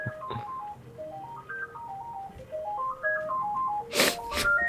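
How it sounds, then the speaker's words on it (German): A telephone rings in a Worms: Clan Wars game, its electronic ringtone a stepped melodic trill rising and falling in repeated phrases, with a burst of breathy noise near the end. "Den Telefon klingelt."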